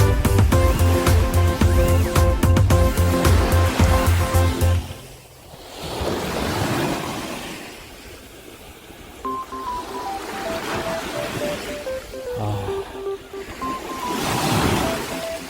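Calm sea waves wash gently onto the shore in slow, soft swells that rise and fall, preceded by a few seconds of bright tonal beeping.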